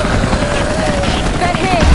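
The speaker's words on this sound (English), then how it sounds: "Those choppers should be in range" Helicopters arriving in the video game Rise of the Tomb Raider, a dense rotor roar that holds steady and close for the whole moment, with a faint rising whine over the top.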